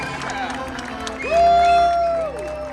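Spectators cheer and clap as Golden Knights parachutists touch down in the target area, the crowd noise swelling louder midway beneath an announcer's amplified voice.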